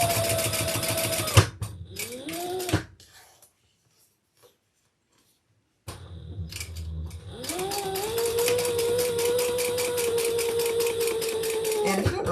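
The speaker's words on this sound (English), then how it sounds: "So I'm just going to stitch down each side, and I'll do a chain stitch." A sewing machine chain-stitches down the sides of a lamb leather crossbody handbag, its motor whirring loudly and steadily with a rapid needle chatter, stopping briefly in the middle before running on again.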